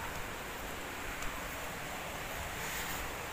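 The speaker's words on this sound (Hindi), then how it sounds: "ये देखो पानी जा रहा" Water from a waterfall rushes and roars continuously beside a footpath, a broad steady wash of sound with no voices.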